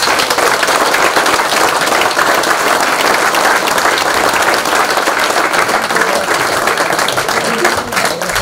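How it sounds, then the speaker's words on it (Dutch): Loud, sustained applause from a crowd at an award ceremony fills the whole stretch, a dense wash of clapping that barely eases before fading slightly at the end. "APPLAUS."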